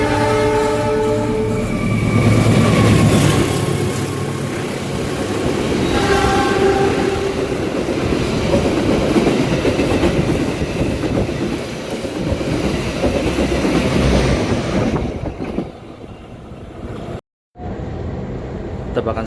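The Malabar train passes straight through Awipari station, loud and close: a horn blast opens it, then a long roar with clattering wheels fades away near the end.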